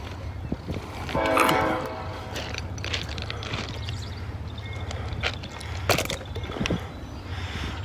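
A Norfolk Southern mixed manifest freight train rolls past, a steady low rumble of wagons with horn blasts. Footsteps and light handling noise sit close by.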